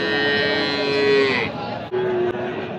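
A Sahiwal bull moos in a long, drawn-out call, then gives a second shorter low moo, with some background noise around it at a cattle market.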